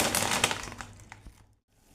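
Dry atta chowmin noodles are snapped by hand, giving a quick run of close, crisp cracks and crackles that fade out, followed by a brief silence.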